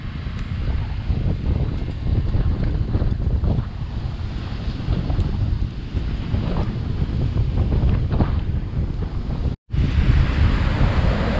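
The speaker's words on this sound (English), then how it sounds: "The storm is coming back in and it's getting windy." Strong gusts buffet the microphone over steady ocean surf at Capitola by the Sea as a storm rolls back in, a loud continuous roar of wind and breaking waves with no talking.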